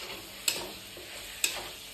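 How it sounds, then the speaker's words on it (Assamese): Pieces of pork frying in a pan with spices give off a steady, close sizzle and hiss, broken by two sharp utensil clicks about a second apart. "এখিনি ভালকে ভাজিম"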